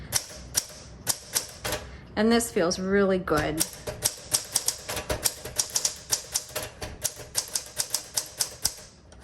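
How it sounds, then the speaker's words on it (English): A 1962 Smith Corona Sterling manual typewriter is typed on, giving a steady run of sharp, close key strikes, with a carriage creak and a short spoken remark near the start. "Okay, let's go ahead and type."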